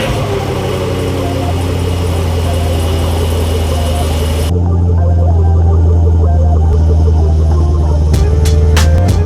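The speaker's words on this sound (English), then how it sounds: "I just love the way that car sounds with no cats" A 2017 Chevrolet Camaro SS V8 with no catalytic converters idles nearby, a steady deep rumble with a brief change in tone partway through and a few sharp knocks near the end.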